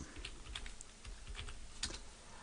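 Quick, light keystrokes on a computer keyboard as a command is typed into a Linux terminal, an irregular patter of clicks close up with no talking.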